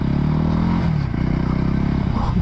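A Voge 300 Rally motorcycle ridden off road gives a loud, close engine drone that dips briefly as the rider shifts, then resumes with gravelly clatter and scraping beneath it.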